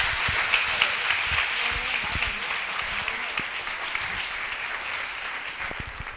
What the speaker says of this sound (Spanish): Pon un aplauso fuerte y seguimos.